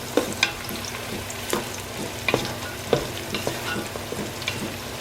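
Onions for goat biryani sauté in a pan, with a steady soft sizzle broken by repeated clicking spatula scrapes and taps at an uneven rhythm, close up.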